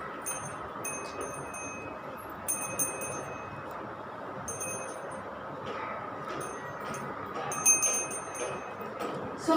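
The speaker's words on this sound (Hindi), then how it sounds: "घंटी उठाओ, घंटी शोर करके नहीं, अच्छे से बजानी है।" A small hand bell rings during an aarti prayer at a Satyanarayan puja, faint, quick tinkling bursts coming and going over a quiet room background.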